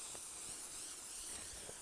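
Cooking spray hisses onto a baking sheet pan as grease for holding parchment paper, a steady, soft, airy spray lasting a couple of seconds with faint clicks underneath.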